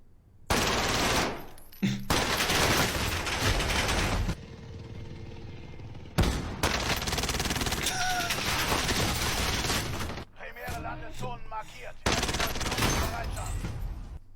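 Long, dense bursts of rapid automatic gunfire from a Mac 10 submachine gun in the video game Warzone, loud and close, broken by short pauses with faint background noise between volleys.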